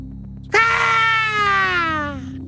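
A person imitates a blood-curdling screech for a Halloween story, one long loud harmonic scream held for about two seconds and then fading.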